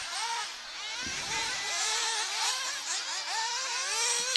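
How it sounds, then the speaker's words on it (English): Several racing car engines warming up whine and rev at a distance, their pitches rising and falling and overlapping in a continuous buzzing drone. "So you can hear the engines and the warm-up."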